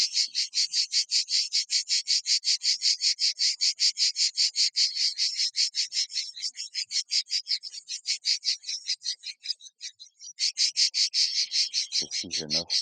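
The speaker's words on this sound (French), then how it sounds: "les cigales se déchaînent" Cicadas sing loudly and close by in Provence, a shrill pulsing buzz in rapid rhythmic bursts that falters briefly, then resumes, with a short low voiced sound near the end.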